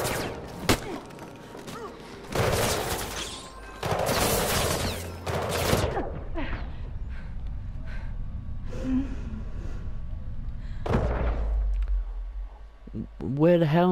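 Bursts of gunfire aimed at the player in Mirror's Edge Catalyst: several loud, dense volleys in the first seconds, then quieter scattered thumps and breathing, with a person talking over the later part.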